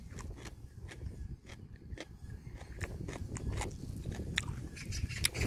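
A Jindo dog chews a large red radish, giving repeated close, crunchy bites and wet chomping in an irregular rhythm against quiet surroundings.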